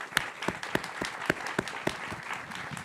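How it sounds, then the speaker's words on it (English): Audience at a talk on building a bank in China clapping, a small, fairly quiet round of separate hand claps with uneven rhythm over a few seconds. "We'll give him a round of applause"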